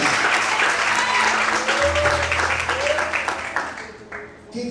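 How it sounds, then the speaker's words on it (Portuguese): A church congregation claps loudly and continuously through a worship service, with the broad, dense applause ringing out under a pastor's spoken voice and fading slightly toward the end. "Esse é o aplauso mais forte."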